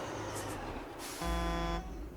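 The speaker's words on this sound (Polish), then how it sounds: "Użyj klaksonu, aby wjechać do środka." A truck horn in the video game Alaskan Road Truckers gives one sustained honk of about half a second, loud and close over a low engine rumble.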